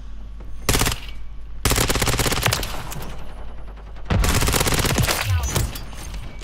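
Rapid automatic bursts from an ISO 9mm submachine gun in the video game Modern Warfare 3, loud and close, firing in three long sustained volleys with brief pauses between them.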